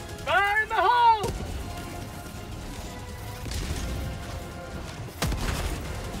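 In Helldivers 2, a thrown grenade bursts with a sudden loud blast, followed by a rumbling gunfire-like din; a second sharp blast comes near the end. A brief tonal voice-like sound precedes the first explosion.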